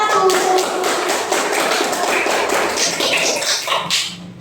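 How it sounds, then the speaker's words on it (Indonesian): A classroom full of students applauding a student group, steady rapid clapping from many hands nearby that holds for several seconds and then thins out. "beri tepuk tangan dulu untuk kelompok 1"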